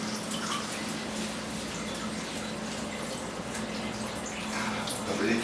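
Tap water runs steadily over a waxed cucumber in a sink, a continuous hiss and splash at close range with small shifts near the end.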